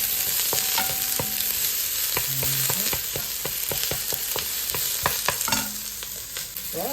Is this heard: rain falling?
no